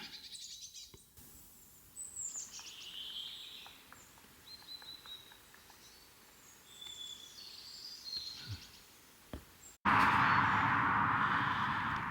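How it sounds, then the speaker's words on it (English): A woodpecker calls amid scattered birdsong on a countryside walk in the Howardian Hills, with thin chirps at moderate distance before a sudden loud burst of wind or handling noise at the end. "I can hear a woodpecker."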